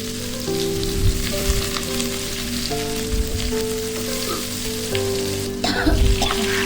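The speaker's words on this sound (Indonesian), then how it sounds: "lanjut kita tumis juga bawang merah" Ginger, lemongrass, shallots and garlic sauté in hot oil, a loud continuous sizzle with a faint steady hum underneath and occasional brief louder bursts as the pan is stirred.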